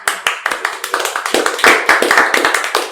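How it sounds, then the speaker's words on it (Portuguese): A round of clapping from a small group in a podcast-style studio, honoring teachers: sharp, uneven hand claps in a steady flurry, close and loud, with a few voices faintly underneath. "com essa salva de palmas aos nossos mestres"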